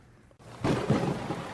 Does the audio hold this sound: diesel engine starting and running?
no